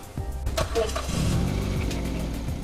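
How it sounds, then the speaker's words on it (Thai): A 2012 Mazda2 1.5 Maxx sedan engine cranks briefly and catches, then settles into a steady, close idle with a low rumble. "เดี๋ยวฟังเสียงเสียงเครื่องยนต์หน่อยดีกว่า"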